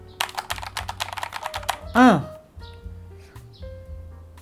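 Fast, hollow-sounding typing on a Ryunix XO-723 keyboard with no internal dampening, a burst of sharp clacks followed by sparser keystrokes, with a brief chirping bird call cutting in midway.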